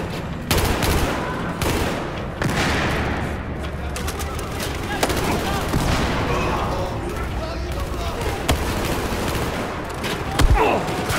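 Gunfire in the Battlefield 4 video game, with dense bursts of shots and explosions continuing for the whole stretch amid loud battle noise. There is chatter under it, and a sharper blast comes near the end.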